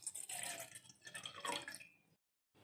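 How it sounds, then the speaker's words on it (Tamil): Water, about 200 ml, poured into a cooking vessel, a steady splashing trickle for about two seconds that stops abruptly into silence. "ஒரு பாத்திரத்தில் 200 மில்லி தண்ணி ஆட் பண்ணிக்கலாம்."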